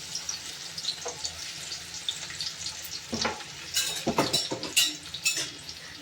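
Chopped onions sizzle and crackle in hot oil in a home kitchen pan, frying toward golden. A spoon stirs and scrapes against the pan, and the clatter grows busier in the second half.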